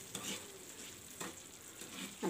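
Fried boondi being mixed into melted sugar syrup for halwai-style motichoor laddu, giving a soft, steady wet stirring and faint sizzling hiss throughout, with a few slightly stronger scraping strokes.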